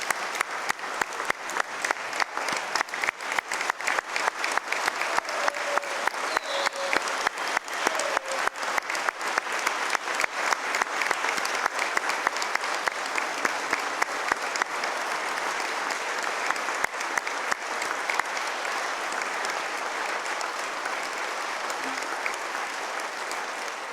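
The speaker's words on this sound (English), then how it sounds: "Let's give them a big round of applause." Sustained applause from a large audience for rescue workers, including Fish and Wildlife boat rescue crews, at a governor's State of the Commonwealth address; dense steady clapping with sharp individual claps early, slowly thinning toward the end.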